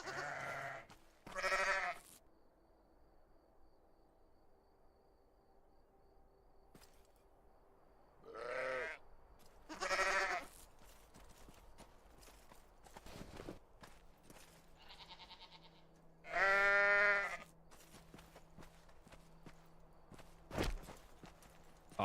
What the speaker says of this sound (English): I was interacting with the sheep.